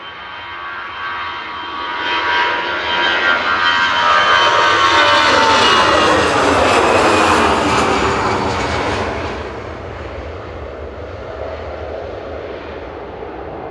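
A passenger jet departs Manchester Airport for Berlin, its engine roar swelling loudly to a sustained peak mid-way, then gradually receding into a lower, distant rumble, with no voices.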